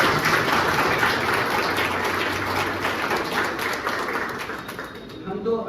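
An audience claps steadily through a free data analyst and web development training event in Malakpet, a dense, continuous wash of many hands at moderate distance that fades slightly near the end, with no clear speech.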